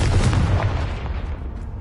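Confringo fire spell explosion in the Hogwarts Legacy video game, a loud booming blast with a rumbling low-end tail that fades over about two seconds, no voices.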